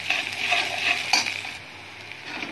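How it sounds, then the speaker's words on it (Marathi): Finely chopped onion sizzles in hot oil for dal tadka, a steady broadband frying hiss with spoon-stirring scrapes and a brief louder clatter partway through, close and continuous with no talking. "बारीक चिरलेला कांदा टाकणार आहोत।"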